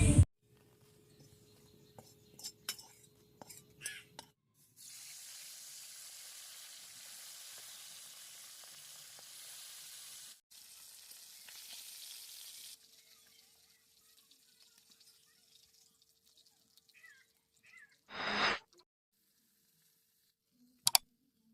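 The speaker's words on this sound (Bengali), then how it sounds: "এবার আমি লঙ্কাটা আর জিরেটা ভেজে রেখে মাছটা ভেজে নেবো" Chili, cumin and fish frying in oil in a wok give a faint, steady sizzle for several seconds, with a few short clatters before it and one louder burst near the end.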